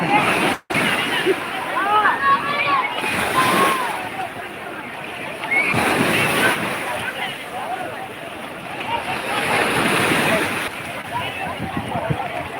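Sea waves wash along the Rameswaram shore in a steady, broad roar of surf and sloshing water that swells and eases, with faint voices in the background.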